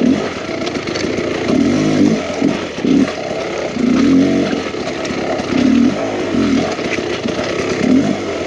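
Enduro dirt bike engine revving on a hard, enclosed trail, a loud two-stroke-style snarl rising and falling in repeated bursts roughly every second, continuous and close with no talking.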